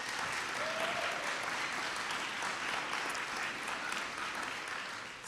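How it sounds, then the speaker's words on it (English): Sustained applause from an audience at the 2018 City of Destiny Awards volunteer ceremony in Tacoma, a dense steady clatter of many hands filling the hall at even loudness throughout. "Can we give them a round of applause tonight?"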